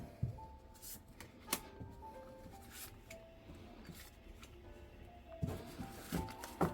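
Tarot cards are shuffled and drawn close by, making soft papery slaps, flicks and brief rustles. The handling is faint and irregular, with a quiet stretch between bursts.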